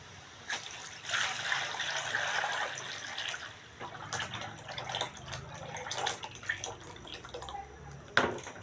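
Glutinous rice flour batter for dodol pours into a hot pot in a home kitchen, a soft wet splashing and trickling stream running steadily for several seconds with a few sharper drips near the end.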